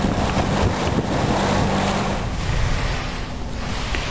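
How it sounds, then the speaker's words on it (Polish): Strong stormy wind roars and waves surge around the sailing yacht Varsovia in Johnston Strait off Vancouver Island, a loud continuous rush with heavy wind buffeting on the microphone and no voices. "Cieśnina Johnston Strait wita silnym, sztormowym wiatrem."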